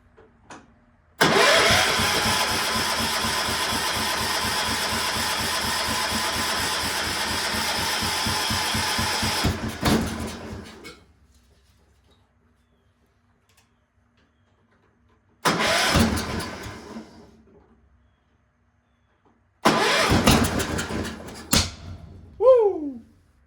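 Cub Cadet 1250 garden tractor engine run at full throttle, a loud steady roar for several seconds that cuts off, then two short bursts of revving, the last ending in a sharp backfire pop.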